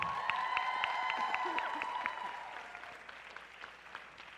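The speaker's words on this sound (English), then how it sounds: "Let's get another round of applause for all 5 of our judges tonight." Audience applause at a 2023 championship awards ceremony honouring the judges, a steady wash of many hands clapping that gradually fades, with a voice carrying over the first half.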